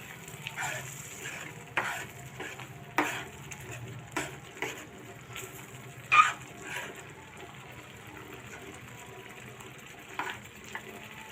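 Pav bhaji vegetables being stirred into a sizzling tempering in a pan, with a low steady sizzle under a series of irregular spoon scrapes and clanks against the pan.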